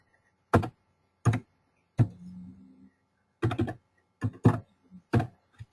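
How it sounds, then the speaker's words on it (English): Keys on a computer keyboard being struck to enter a number, a handful of separate sharp clicks spaced unevenly across a quiet background, close and fairly loud with no talking. "If I were to just click in here and start typing that"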